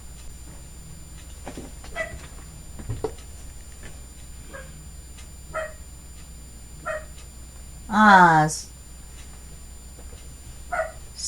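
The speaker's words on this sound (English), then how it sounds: "silly little dog." A small dog barks indoors in scattered single yips and woofs, with one louder, drawn-out whining bark partway through, heard alongside a brief spoken exclamation.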